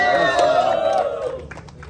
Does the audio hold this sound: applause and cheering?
yes